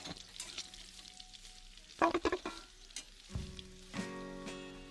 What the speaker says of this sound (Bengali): ঢাকা খুলে দেখি আলুটা মোটামুটি ভাজা হয়ে গেছে।